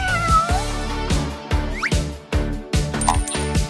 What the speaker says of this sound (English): Oh, what a pretty kitty.